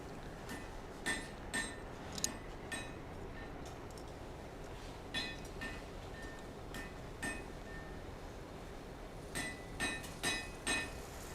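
A hammer strikes metal while an Easter egg cup is being forged, giving sharp ringing clinks at an irregular pace, some in quick clusters, fairly faint against a steady background hiss.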